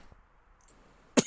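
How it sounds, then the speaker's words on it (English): A single short cough bursts out near the end after a quiet pause, close and fairly loud against a faint background. "My apologies about the cough again."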